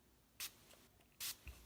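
A cosmetic spray bottle, a Mary Kay product, gives two short, close, hissy mist bursts about a second apart, with a soft tap near the end and quiet room tone between.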